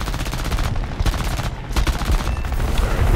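Aircraft machine guns in War Thunder fire rapid, dense bursts that run almost nonstop, loud and near, with only brief gaps between them.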